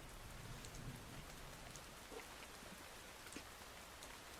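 A rain sound recording plays softly as background ambience for an art stream, a steady patter of raindrops on a surface with scattered crisp drips and faint low rumbles, quiet and continuous.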